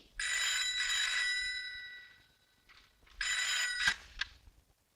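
An old-style telephone bell rings in two loud, shrill bursts separated by a short pause, followed by a few faint clicks and no talking.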